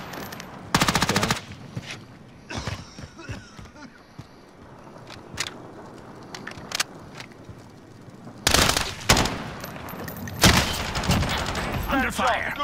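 Gunfire in a Call of Duty Warzone Resurgence match fought with a Lapa carrying no attachments: two loud machine-gun bursts with scattered single shots between them, and talk in the background.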